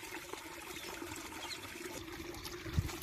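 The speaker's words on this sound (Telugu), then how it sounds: "నీళ్ళు చిమ్ముతాను చూడండి." Water is flung from a small bowl onto dry, freshly sown village soil seeded with gongura and coriander, giving a faint trickling splash with one brief louder pour near the end.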